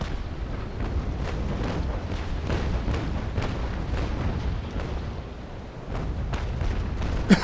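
Ship cannons fire in a Naval Action video game battle, a rapid series of deep booms running through a dense rumble, loud and unbroken, with no talking.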